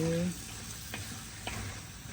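Lamb intestine curry with sauce is stirred in a pan, giving a soft steady sizzle with a few light scraping strokes, close by, after a brief hum at the start.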